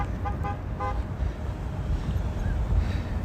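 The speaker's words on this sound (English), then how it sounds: "Guy's back here honking at the pigeons because they won't get out of his way." A car horn honks several short toots in quick succession at pigeons blocking the road on a city street, set against steady traffic rumble.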